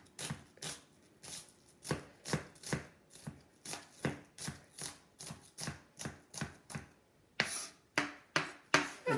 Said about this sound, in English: You're chopping like this.